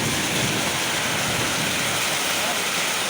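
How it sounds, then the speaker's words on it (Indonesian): Hail pours down in a storm with strong wind in Kampung Sawah, Bekasi, a dense, steady hiss of pelting ice throughout with a voice speaking over it. "Hujan es batu."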